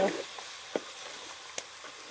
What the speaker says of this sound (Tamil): இப்போ நாங்கள் இப்படி எல்லாத்தையும் சேர்த்து கிளறிட்டு